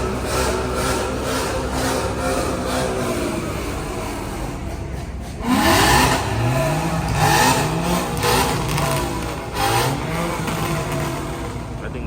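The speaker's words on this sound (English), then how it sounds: "We got a couple of them over there revving" Several cars rev their engines at a car meet nearby, with rising and falling revs and a sharp louder burst partway through over a steady idle rumble and outdoor background noise.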